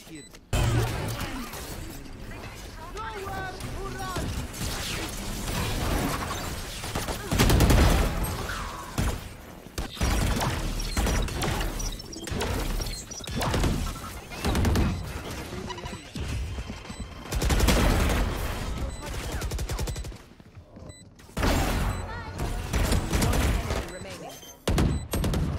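Rapid bursts of gunfire shooting through walls in the game Valorant, loud and dense over nearly the whole stretch, with thuds and mechanical clicks mixed in and players talking over it.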